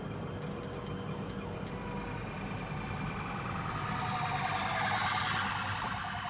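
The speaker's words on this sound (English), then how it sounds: "Oh yeah, siren here." A wailing emergency vehicle siren rises and falls steadily over continuous street noise, heard from inside a Citroen Ami, moderately distant and persistent throughout.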